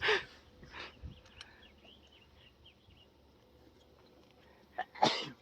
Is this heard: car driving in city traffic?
no